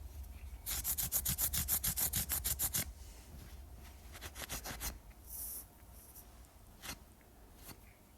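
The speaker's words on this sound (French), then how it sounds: "On frotte afin d'enlever tout résidu des poussières et des produits." Motorcycle brake pads being rubbed clean of dust and residue, a fast run of rhythmic scrubbing strokes at first, then slower, scattered rubs and scrapes, close up with no talk.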